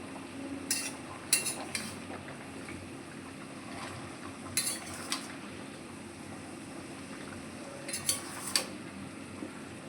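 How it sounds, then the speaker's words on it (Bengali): Potato, pumpkin and drumstick pieces are stirred in a pan, with a soft simmering hiss underneath and a few close, bright clinks of a utensil against the metal. "এবার এটাকে নাড়াচাড়া করবো কিছুক্ষণ"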